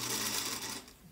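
A Singer Featherweight sewing machine sews a short run of tiny stitches, a quick, fairly quiet whirring rattle close by that lasts about a second and then fades.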